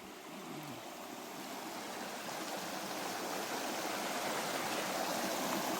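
A stream at Murrindindi Scenic Reserve flows in a soft, continuous rushing wash that grows slightly fuller over several seconds, heard alone with no voices.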